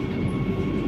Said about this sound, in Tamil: எத்தனையோ ட்ரெயின்ஸில் கிருஷ்ணா பிரிட்ஜ் மேலே போயிருக்கோம். பட் ஃபர்ஸ்ட் டைம் ஒரு வந்தே பாரத்தில் இப்போ தான் போகிறோம்.